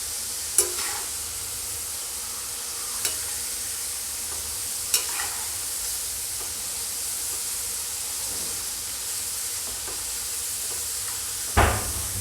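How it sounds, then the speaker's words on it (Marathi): Potato slices deep-frying in hot oil over a high flame give a faint, steady sizzle and hiss, broken by a few sharp clinks of stirring or the utensil. "हाय फ्लेमवरच आपण याला तळून घेऊया"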